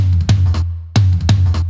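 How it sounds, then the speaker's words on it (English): A Ludwig Maple 14-inch floor tom, tuned down and layered with a natural tom, struck three times with deep booming thuds and a low sustained ring between strokes, close and loud. "We've just loaded up the Ludwig Maple 14-inch and then had a listen to the"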